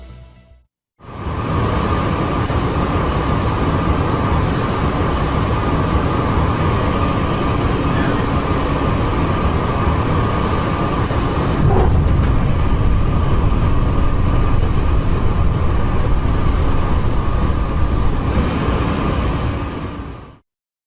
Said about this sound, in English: this new plane that is about to land at the airport